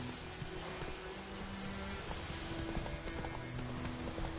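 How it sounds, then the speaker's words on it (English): A horse gallops in the video game The Witcher 3, its rhythmic hoofbeats clip-clopping steadily and faintly beneath a continuous wash of game ambience, with no voices. "Run, Roach"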